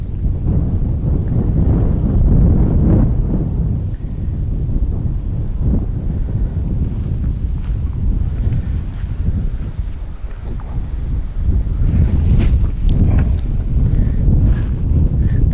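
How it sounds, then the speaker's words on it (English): Steady wind gusts across open water while shallow-water fishing with groundbait, a loud continuous low rumble and buffeting against the microphone throughout, easing briefly midway before rising again. "Wind's just picked up a little bit more, but it's blowing towards us"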